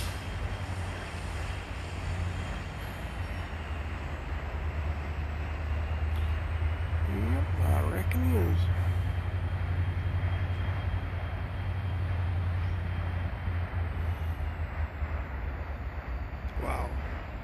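A steady low rumble of a passing Norfolk Southern freight train hauling new BMW SUVs in Greer, South Carolina, loud and continuous, with a brief squeal of metal midway through.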